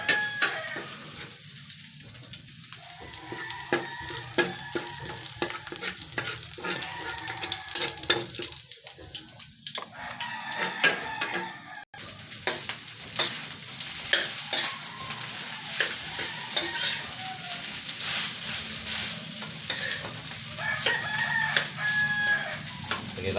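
Chopped garlic sizzling in oil in a frying pan for Filipino garlic fried rice, with steady crackling and spatula stirring throughout, loud and close, plus intermittent scraping against the pan.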